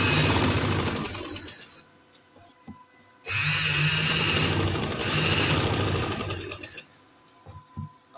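A sewing machine stitches a full-sleeve garment in two loud, close bursts of steady running, with quieter handling noises between and after them and no speech.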